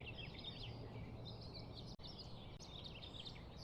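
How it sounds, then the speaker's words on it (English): Morning birds sound effect: faint, distant chirps and tweets from several birds over a soft steady background hiss, subtle and continuous with a brief gap midway. "Morning birds."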